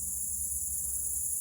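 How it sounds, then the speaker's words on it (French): Crickets chirp steadily outdoors in nature, a dense, continuous high-pitched trill that stays level throughout, with no voices and only a soft low rumble beneath. "il y a des grillons, c'est sûr, parce qu'on en voit"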